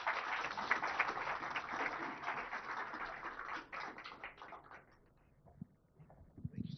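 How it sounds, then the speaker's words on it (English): Audience at a tech event clapping for an IT Minister, a steady wash of applause that fades to scattered claps near the end, heard faintly and from a distance. "giving the Honorable IT Minister a big round of applause"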